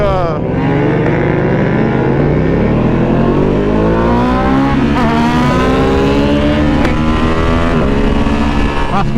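A 2020 Ducati V2 motorcycle engine roars loudly and continuously while being ridden, climbing through repeated revving sweeps and quick shifts with steady wind and engine drone throughout.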